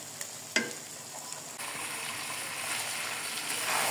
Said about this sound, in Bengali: মশলার সাথে চিকেন ভালো করে মিশিয়ে নিব।